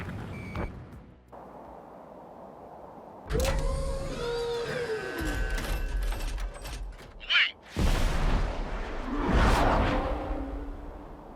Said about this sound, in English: UAVs ready to launch. Away.